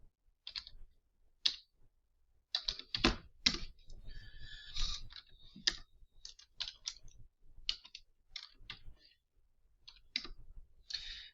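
Computer keyboard typing in short uneven bursts of clicking keystrokes with brief pauses between, close and fairly quiet, alone without talking.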